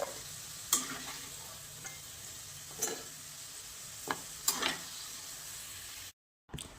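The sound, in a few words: potatoes frying in oil in a kadhai on low flame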